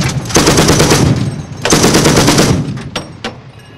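The Viktor anti-aircraft gun system fires in loud, close bursts of rapid automatic gunfire, two long bursts followed by a few single sharp shots trailing off.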